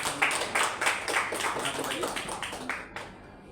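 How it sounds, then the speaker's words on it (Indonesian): Students in a classroom give a short round of scattered applause, the irregular claps fairly close and trailing off into quiet at the end. "Silakan tepuk tangan untuk yang"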